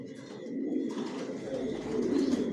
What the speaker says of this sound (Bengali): কোয়ালিটি সম্পন্ন কবুতর পালি, কোয়ালিটি সম্পন্ন বাচ্চা রেডি করে নিজের লফট থেকে বিক্রি করি।